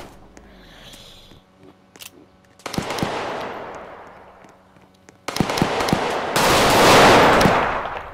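Rapid bursts of gunfire in a gang-war video game, sharp cracks and automatic volleys growing denser and louder, ending in a sustained roaring barrage.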